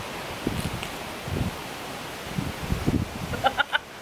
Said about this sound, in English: It's so windy here, it's unbelievable.